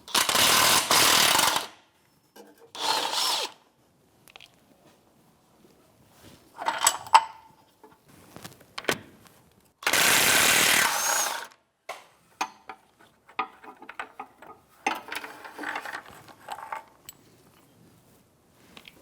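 A power tool on a 21mm socket backs out power steering rack bolts on a 2009-2014 Nissan Maxima in loud, short rattling bursts, separated by quieter clinks and clicks of handling, with no talking.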